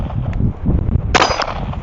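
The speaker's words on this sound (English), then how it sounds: "Magazines drop free." A pistol magazine dropping free from the grip and clattering down with a bright metallic clang, one short hit amid low background rumble.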